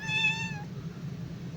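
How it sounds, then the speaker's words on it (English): A cat gives a single clear, close meow lasting about half a second over a low background hum. "I'm being mean to my cat."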